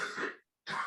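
A person in a room coughing or clearing their throat, two short rough bursts separated by a brief silence, close and fairly quiet.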